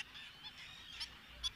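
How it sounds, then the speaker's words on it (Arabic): Faint, distant calls of the abu mighzal, a migratory water bird with a spindle-shaped beak, come as two short honking notes over quiet wetland ambience. "طائر أبو مغزل"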